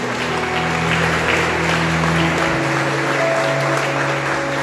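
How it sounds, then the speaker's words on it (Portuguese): A church congregation applauding during a sermon, a steady wash of clapping hands with a low sustained hum underneath, continuous and fairly loud throughout. "Se você crê nisso, aplauda e glorifique o nome de Jesus."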